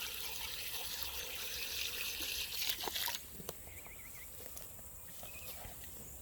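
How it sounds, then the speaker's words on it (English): Half a gallon of water is poured into a planting hole dug in clay soil, a steady close trickle and splash that fades into quieter dribbling halfway through. "we take a half gallon of water and just put it in the hole"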